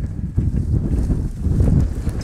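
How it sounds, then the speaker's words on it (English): Strong wind gusting outdoors in subzero Alaska, a steady low roaring rush buffeting the microphone with uneven surges throughout, no voices. "Lots of wind."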